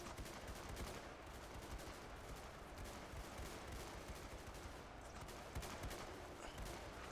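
Musket gunfire in a battle simulator game, French and British line infantry trading volleys; dense, continuous crackle of overlapping shots with no distinct single reports, steady loudness throughout with a sharper burst near the end.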